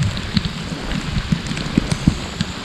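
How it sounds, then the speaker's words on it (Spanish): Heavy tropical downpour in a rainforest along a river, a dense steady roar of rain with scattered louder drops hitting nearby surfaces, close and continuous with no voices. "Llueve en el paraíso natural. A cántaros."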